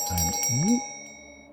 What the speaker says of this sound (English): I just rang the bell.